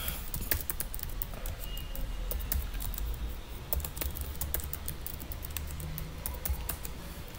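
Fast, irregular clicking of keys on a computer keyboard as a username is typed, close and fairly steady over a low background hum.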